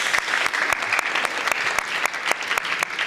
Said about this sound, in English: So big round of applause for new member of the Prince family.